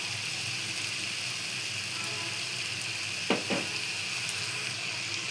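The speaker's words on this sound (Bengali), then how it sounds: "এখন আমি হলুদের গুঁড়া, মরিচের গুঁড়া, লবণ দিয়ে দিলাম, দিয়ে মাছটাকে রান্না করব" Fish cooks in a pan with turmeric, chili powder and salt, giving a steady close frying sizzle throughout with a couple of brief sharp crackles midway.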